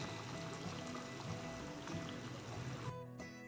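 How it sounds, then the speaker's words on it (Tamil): Tamarind water being poured into a pot, a soft continuous trickling stream that stops near the end, quiet and close. "புளி தண்ணியை விட்டுடலாம்"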